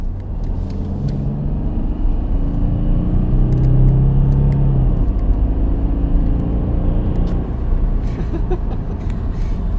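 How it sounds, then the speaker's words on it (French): Mercedes CLS Shooting Brake engine under kick-down acceleration, a loud, close, continuous rumble with rising engine tones as the revs climb, then settling into a steady drone, with no talking. "On va refaire un petit kick-down parce que c'est sympa quand même."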